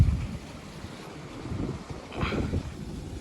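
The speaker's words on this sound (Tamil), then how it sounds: "நல்லா காற்றடிக்கி" Wind gusting through a mango garden, a soft, low rumbling rush that swells and fades in uneven gusts, with no one speaking.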